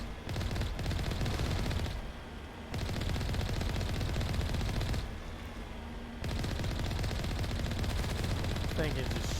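Gunfire from the video game Mass Effect rattles in long continuous bursts, dense and loud, broken by two short pauses before the shooting resumes.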